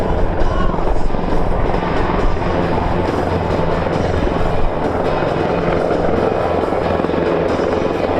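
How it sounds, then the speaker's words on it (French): Airbus H225 Caracal military helicopter performing a tactical display, its rotor blades slapping in a loud, steady, throbbing rhythm overhead, with a continuous turbine roar throughout. "L'hélicoptère claque les pales, c'est ce qu'on appelle le Sound of Freedom."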